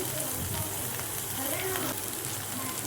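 Spicy corn snack frying in hot oil, giving a steady, dense sizzling hiss that runs unbroken through the whole short stretch at moderate level, with no voice over it.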